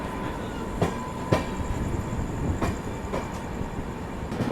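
Special passenger train gathering speed along a railway line, a steady rolling rumble broken by sharp, irregular wheel clicks over rail joints, close and fairly loud, with no voices.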